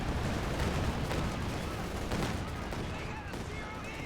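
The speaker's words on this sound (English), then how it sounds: "Another barrage from PFC." Artillery barrage in Company of Heroes 2, a dense continuous rumble of blasts and shellfire under a commentator's voice throughout.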